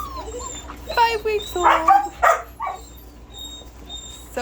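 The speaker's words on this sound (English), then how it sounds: "F3 miniature Bordoodle puppies" Five-week-old F3 miniature Bordoodle puppies whimper and let out thin, high yips in scattered bursts, close by, while a person talks over them.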